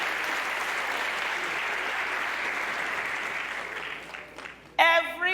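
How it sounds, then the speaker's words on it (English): Graduation ceremony audience applauding, a dense, steady clatter of many hands that fades over several seconds before a voice speaks. "give me a round of applause now, please."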